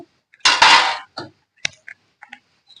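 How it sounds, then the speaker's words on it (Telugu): A metal spoon stirs carrot and coconut halwa with jaggery syrup in a pan: one long, loud scraping clatter, then a few light, scattered clinks against the pan. "పాకం వేస్తున్నాక ఇలాగా కలుపుకోవాలి ఇలా కలుపుతూనే ఉండాలి"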